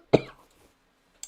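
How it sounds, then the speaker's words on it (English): A single sharp cough up close, followed by a brief quiet stretch and the start of another short burst at the end. "I want to cough forever."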